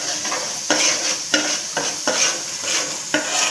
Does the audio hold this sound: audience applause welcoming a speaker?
no